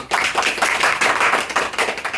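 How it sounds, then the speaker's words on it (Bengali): An audience at a department gathering gives a round of applause for Mizan bhai, with brisk, continuous hand claps that stay dense and lively throughout. "আমাদের পক্ষ থেকে মিজান ভাইয়ের একটা করতালি দিয়ে বড় করে"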